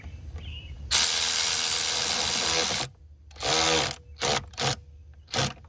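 A ratchet tightens a hose clamp under the hood of a 2009 Lincoln MKS with a 3.7 engine, heard as a long continuous whirring stretch followed by several short bursts of clicking, close and fairly loud.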